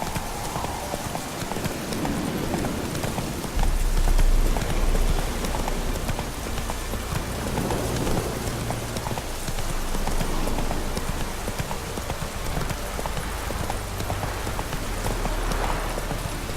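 Hooves of Roach, a horse in The Witcher 3, gallop in a steady clip-clop rhythm with a soft rain-like hiss running throughout, loud and close, with no talk over it.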